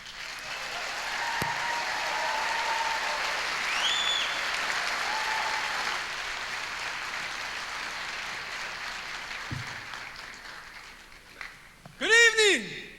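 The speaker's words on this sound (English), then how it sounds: "Please give a round of applause for tonight's hosts of the Omaha Nation" An audience at the Native American Music Awards applauds the show's hosts, a steady wash of clapping that swells and holds for several seconds before tapering off, with whoops and a brief burst of voices near the end.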